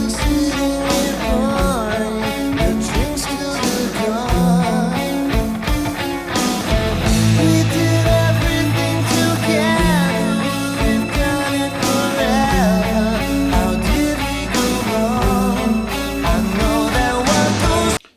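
Palm-muted electric guitar chugs through the verse of a song, starting down on an A, with a rhythmic muted pattern broken by ringing chord accents, played solo and loud throughout.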